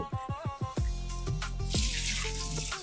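Tap water runs and splashes as fresh crabs are rinsed in a kitchen sink for a Malvani crab curry, opening with a few bubbly gurgles before settling into a continuous close pour.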